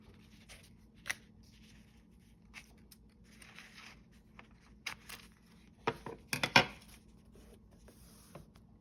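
Scissors snip through paper while a Hobonichi Cousin planner is set up, a few quiet, close cuts clustered near the end after mostly faint rustling and handling.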